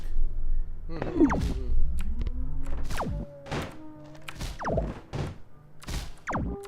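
A fast cannon firing in the puzzle platformer Braid: a series of heavy, dull thunks at uneven intervals, some with swooping tones, over a low, steady game background.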